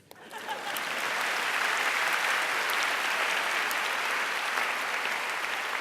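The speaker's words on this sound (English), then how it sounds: "now you can applaud" A graduation audience breaks into applause. It rises quickly in the first second, then holds as a broad, sustained wash of many hands clapping, heard from some distance and fairly soft.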